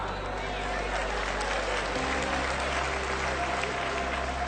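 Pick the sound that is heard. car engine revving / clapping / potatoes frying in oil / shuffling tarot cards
clapping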